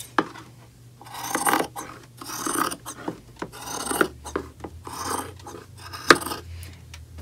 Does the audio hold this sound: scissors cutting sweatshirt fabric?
yes